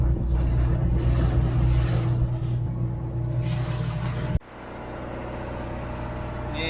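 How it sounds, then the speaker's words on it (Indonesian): A boat travelling from Canti Harbour to Sebesi Island, heard from inside the hull as a loud, steady engine drone and cabin rumble that abruptly drops to a quieter, lower hum partway through. "Ini suasana di dalam kapalnya. Bising, banyak suara."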